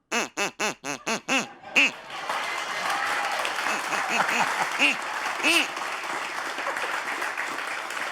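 A voice mimics a duck with a run of rapid, nasal quacks, then breaks off as an audience bursts into sustained applause and cheering, with a few more quacks over it.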